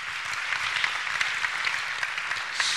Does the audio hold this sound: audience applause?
yes